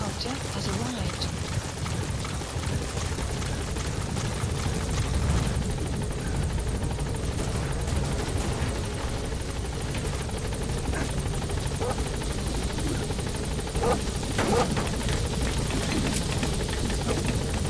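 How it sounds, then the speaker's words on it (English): Support helicopter in the video game Metal Gear Solid V arriving at a landing zone, a steady loud rotor roar filling the whole stretch with faint game noises over it. "Support helicopter has arrived."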